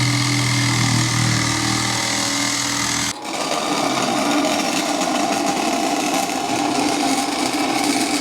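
Metal pieces for a custom catch can on a K24-swapped Honda CRX being cut with a power tool, a loud, steady grinding whine that drops out briefly partway through, then resumes as a harsher, rougher cut.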